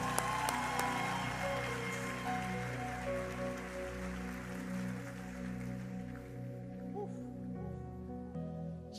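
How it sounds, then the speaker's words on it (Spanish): Church congregation applauding as a pastor is welcomed to a service, a dense steady wash of clapping with background music tones throughout. "Recibamos con un fuerte aplauso"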